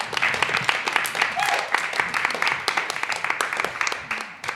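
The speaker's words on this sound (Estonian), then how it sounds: "Ma loodan, et see aplaus kõlas eelkõneleja aadressil" An audience at an Estonian talk event applauds after a speaker finishes, a steady wash of clapping at moderate volume, with a voice briefly audible under it.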